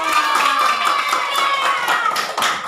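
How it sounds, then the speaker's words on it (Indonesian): A classroom of students clapping their hands together, a dense continuous patter of many overlapping claps, loud and close, with faint voices mixed underneath. "Tepuk tangan ya."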